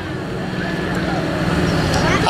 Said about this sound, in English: we're listening to the harmony of Pratt & Whitney radio engines once again